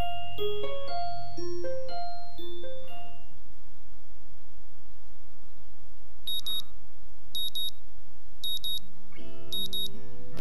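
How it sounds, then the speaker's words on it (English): Katawa Shoujo's in-game alarm sounds as a short electronic beeping pattern, repeating in four evenly spaced bursts. It follows a descending chime melody and sits over a soft ambient music bed. "The sound of an alarm pulls me out of a fitful slumber and into the unpleasant state of wakefulness."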